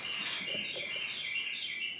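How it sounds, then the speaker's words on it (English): Small bird chirping up in the attic space of a garage, a steady run of high twittering calls over constant background hiss, no voices. "I think that bird is up in the attic portion."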